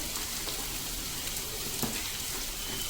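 Vegetables frying in butter in a pan for white sauce pasta: a steady, close sizzle and crackle throughout, with no talking.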